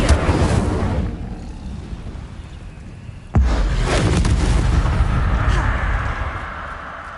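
A fiery Incendio spell cast in Hogwarts Legacy: a low rumbling buildup, then a sudden loud whooshing burst of flame around the three-second mark that roars on and slowly tails off.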